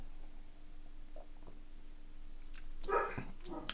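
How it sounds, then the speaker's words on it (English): A pet dog barks once in a quiet room, a sharp nearby bark with a short yelp, following a few faint thuds. "that's my dog that's decided he's barking."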